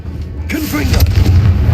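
A Confringo explosive spell blasts in Hogwarts Legacy with a loud, booming burst and a heavy low rumble that lingers for over a second, while a voice briefly calls out near the start.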